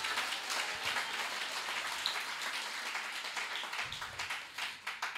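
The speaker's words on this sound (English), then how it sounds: "Clap your hands" A church congregation claps along at a joint worship service, producing a dense, steady wash of many hands clapping at a moderate distance, with no speech over it.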